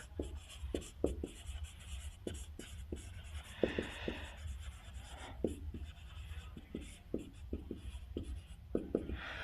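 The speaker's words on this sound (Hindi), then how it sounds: "यहाँ पे मैं लिख देता हूँ" Hand writing on a board during a class lesson, sparse sharp taps and short strokes scattered irregularly over a low steady background hum.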